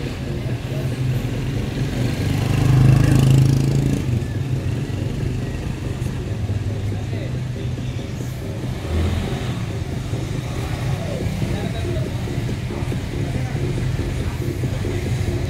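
Eleven motorcycles on a holiday group ride to Balagbag Falls in Real, Quezon give a steady, continuous engine drone. It swells briefly louder as bikes pass close, with faint voices mixed into the road noise.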